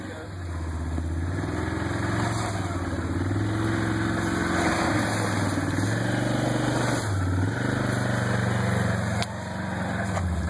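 Off-road vehicle crawling over rocks at Brown Mountain OHV, its engine held at easy throttle with a low idling rumble that rises and falls gently, while people talk over it.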